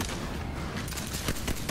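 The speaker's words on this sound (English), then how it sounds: "Now let me shoot you in the chest!" Gunshots in Borderlands 3, a dense stretch of booming shots and impacts, a few sharp reports standing out toward the end.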